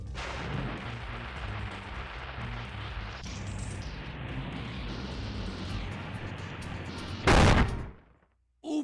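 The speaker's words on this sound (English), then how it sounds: "I hope the explosion didn't hard-boil it." Rockets going off in Spyro 3: Year of the Dragon, a sustained rumbling barrage of booms and crackling blasts for several seconds, capped by one loud, sharp explosion near the end before a brief silence.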